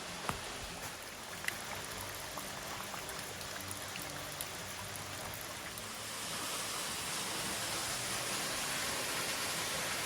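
Steady broadband rushing of a forest waterfall in Big South Fork, continuous and fairly close, growing a little louder toward the end; no voices.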